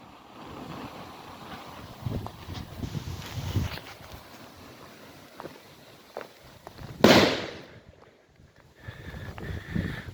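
A Killer Bulldog firecracker goes off outdoors with one sharp, loud bang that trails off into a brief rumble, following quieter ambient rustling and wind.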